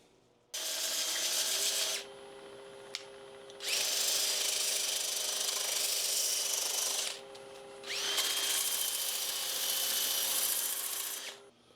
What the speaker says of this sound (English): Now I'm going to sand this down from 80 grit right up to 320 grit